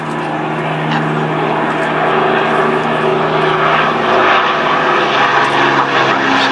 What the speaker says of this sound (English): The Lancaster was one of, if not the best heavy bomber of the war.